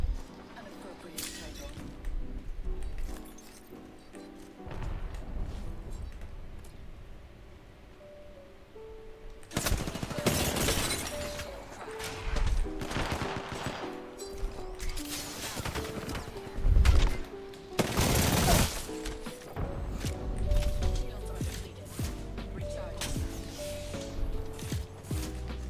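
Gunfire in a shooter video game: bursts of loud rapid shots and sharp cracks come in clusters over game music and mechanical effects, with a player talking throughout.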